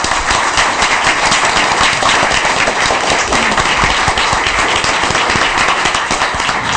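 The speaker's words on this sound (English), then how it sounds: "I think we all deserve a great round of applause" A school board candidate forum audience gives dense, continuous applause that stays loud and even throughout, close and unbroken, with no speech over it.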